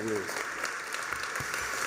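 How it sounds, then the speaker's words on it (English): An audience at a gala applauds in a steady, moderately loud clatter of clapping, with a voice briefly audible at the start. "and we clap it up for Dr. Antoinette."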